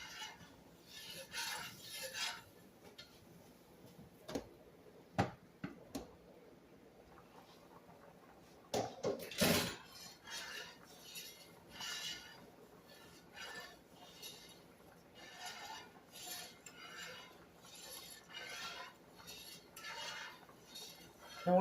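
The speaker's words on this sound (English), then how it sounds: "You just want to scrape up all them little brown bits that is in the bottom of the pan." Utensil scraping browned bits from the bottom of a pan while deglazing for Marry Me Chicken, intermittent metallic scrapes and clinks at close range, with a louder burst of scraping partway through.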